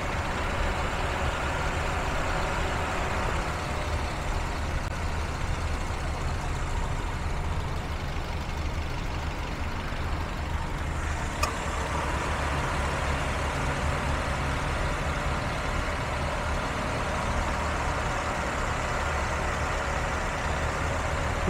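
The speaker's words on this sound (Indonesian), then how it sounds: "Suara irama mesin teman-teman bisa dengar sendiri dan bisa nilai sendiri." An original 2012 Toyota Avanza G with a 1.5-litre, 1500 cc engine and manual transmission idling, a steady low rumble heard from nearby and continuing evenly throughout, with no voices over it.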